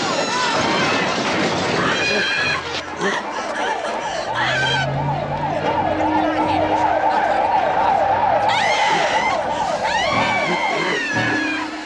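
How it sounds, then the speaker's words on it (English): A wailing siren rises and falls rapidly in a steady cycle, mixed with other sirens and background voices. "the sirens are his cue to leave."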